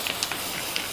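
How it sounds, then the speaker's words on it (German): Spray adhesive hisses steadily from an aerosol can in a brief, close, continuous burst, loud and airy with a few small sputters, with no speech over it. "dann sprühe ich hier drauf"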